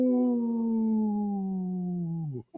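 A human voice imitates a wolf howl: one long, close, sustained tone that slowly slides downward before breaking off abruptly at the end.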